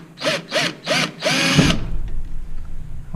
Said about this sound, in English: when you're drilling these rivets out